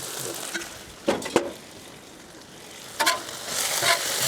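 Chicken thighs sizzle on a Blackstone griddle in a steady frying hiss, with a few sharp clinks and scrapes from a utensil against the hot steel, close and clear with no talking.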